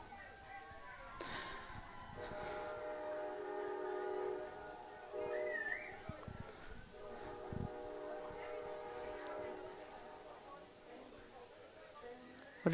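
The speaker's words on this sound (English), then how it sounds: "Hear the Point train coming through." A train horn sounds over the stadium speakers at a college football game between Point University and Keiser University, with long sustained blasts over crowd noise.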